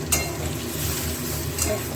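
Eggplant pieces frying in a pan for a turmeric-and-salt eggplant curry, a steady close sizzle running throughout with a couple of brief scrapes or clinks.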